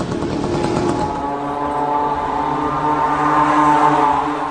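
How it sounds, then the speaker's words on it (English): A small cheap Chinese-made moped or scooter engine, as used in a suicide attack drone, runs steadily with a loud buzzing drone that rises slightly in pitch after the first second, alone. "This is a small moped engine or scooter engine sourced from China at a cheap price."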